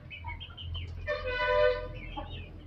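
A chicken clucks and squawks close by, with a drawn-out, honking call in the middle, over a low background hum.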